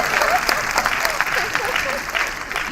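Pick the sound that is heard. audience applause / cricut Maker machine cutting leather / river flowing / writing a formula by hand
audience applause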